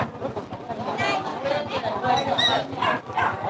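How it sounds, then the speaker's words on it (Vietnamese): At a busy dog market, dogs bark and yip in short, repeated bursts, with whimpering mixed in, close by and fairly loud, under and between the chatter of people talking. "Chó nhà ai đấy?"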